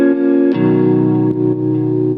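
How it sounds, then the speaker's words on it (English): Loud, sustained strummed chords from a chillout track with a ping pong delay effect, ringing continuously with a few soft strum attacks throughout. "A ping pong delay, and sounds like this."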